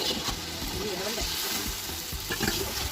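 Food sizzles and spatters in a hot pan while dum biryani is being prepared, a steady dense crackle with occasional stirring clatter, close and continuous throughout.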